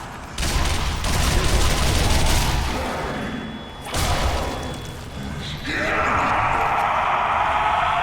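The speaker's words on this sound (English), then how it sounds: "this is a good time to use submachine guns, so let's maybe use that a little bit" Rapid automatic gunfire from submachine guns in the zombie shooter Sniper Elite: Nazi Zombie Army, loud and dense bursts with thuds, a brief pause, then a steady roaring wash of game sound.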